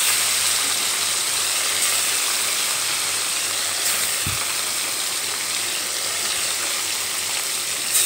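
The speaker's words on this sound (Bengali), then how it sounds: "দেখো, এখানে দ্বিতীয় ব্যাচের ভাজার জন্য সবগুলো মাছ আমি এখানে দিয়ে দিলাম।" Bhola fish, a second batch, frying in hot oil in a pan with potatoes nearby: a loud, steady, dense sizzle runs throughout, broken once by a brief knock.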